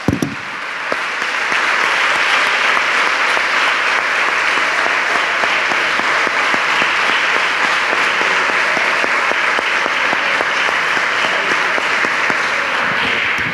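A church congregation applauds loudly and steadily, a thick, sustained wash of many hands clapping that swells in quickly and holds for over ten seconds before cutting off.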